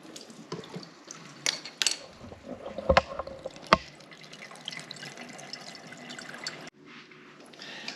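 Water draining out of a GE Profile Opal 2.0 countertop ice maker set beside a sink, with trickling and splashing, several sharp knocks and clatters, then a quieter, steady flow.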